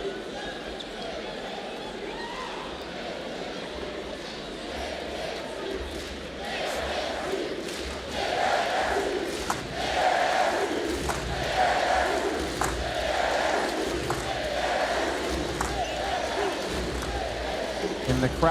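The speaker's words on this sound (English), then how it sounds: "chants rolling through Desert Financial Arena" A basketball crowd at Desert Financial Arena builds into a rhythmic, swelling chant that rolls through the arena, loud and reverberant, with a commentator talking over the dense crowd noise.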